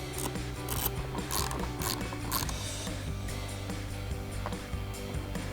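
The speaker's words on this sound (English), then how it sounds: "we'll bring back our T15 Torx bit and extension on our ratchet" A ratchet fitted with a T15 Torx bit and extension drives a screw while installing tail lights on a 2005-2013 Corvette, producing a steady, continuous run of close mechanical clicking for several seconds.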